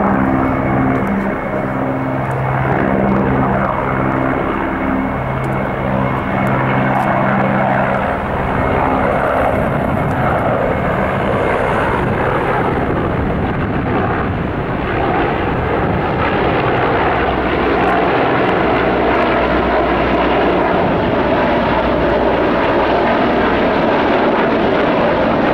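A loud, droning helicopter engine roars overhead steadily during a Victory Day flyover in Russia, with a throbbing rotor-like hum that stays strong and close throughout.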